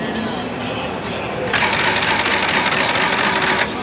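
A book stapling machine runs at a machinery expo, giving a loud, rapid, rhythmic mechanical chatter for about two seconds over a steady hum of background crowd noise.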